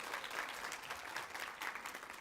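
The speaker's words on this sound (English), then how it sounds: "Can we give them another big round of applause?" Faint, steady applause from an audience at a children's book of the year event, honouring the young book reviewers; distant clapping with no talk.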